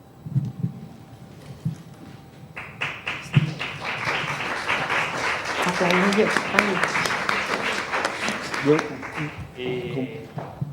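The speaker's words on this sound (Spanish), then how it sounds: "Y no hace falta aplaudir cada intervención" An audience at a talk about the 1749 Great Round-up of Spanish Gitanos breaks into applause that starts sparse, builds into dense, loud clapping, and then thins out, with voices murmuring under it.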